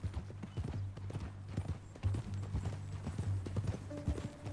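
Horse hooves clip-clop at a steady walking pace in a Western video game, rhythmic and moderately close under a low engine-like hum, with a faint snort or whinny.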